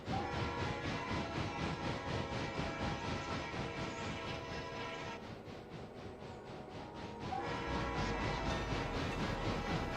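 A train rolls steadily along the rails in RailRoader on the San Pete Valley line, a dense, continuous rumble with a rhythmic mechanical chug and hiss that dips briefly in the middle before returning at full strength.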